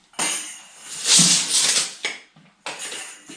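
Thin metal corner bead for plastering a fireplace is bent until it snaps, with clinking and rattling metallic clatter in a few bursts close by.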